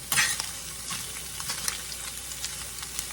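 Meat, corn and vegetables frying in a pan for cowboy pasta, a loud, steady sizzle with scraping stir strokes throughout and no talking.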